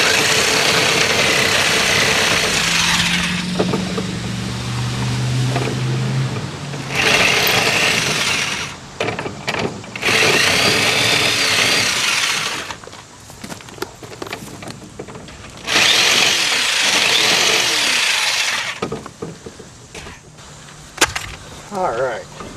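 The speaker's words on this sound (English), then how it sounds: "I use a little saber saw with a carbide blade on it." Small saber saw fitted with a carbide blade cuts out inside corners, buzzing loudly and close in four sustained bursts of several seconds each, separated by short pauses with clatter and handling noise.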